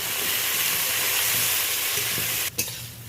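Small home-grown eggplants frying in hot oil in a pan, a steady loud sizzle and hiss close by that lasts throughout, with a brief clatter near the end.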